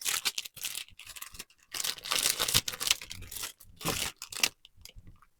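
Sheets of Halloween-themed craft paper rustle, crinkle and crunch in bursts of handling with short pauses, close and fairly loud.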